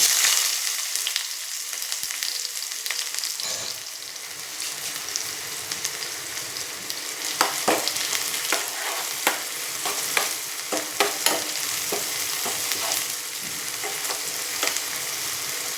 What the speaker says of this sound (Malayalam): അരിഞ്ഞ് വെച്ച ഇതില്ലേ നമ്മൾ ചുവന്നുള്ളിയും വെളുത്തുള്ളിയും അതിലേക്ക് ഇട്ട് കൊടുക്കാം